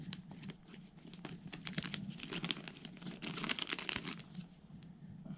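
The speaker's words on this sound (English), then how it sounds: "get my scissors, cut this stuff open" Scissors cut open plastic packaging for a Redcat Kaiju steel spur gear, with close crinkling, crackling and snipping in quick irregular bursts, fairly quiet, no talking.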